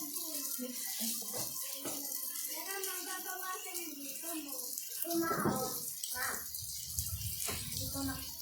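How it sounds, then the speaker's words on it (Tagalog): Water runs and splashes into a glass up close, with voices talking intermittently in Tagalog over the pouring and a faint rattle. "lagyan mo nga itong tubig. Isang baso."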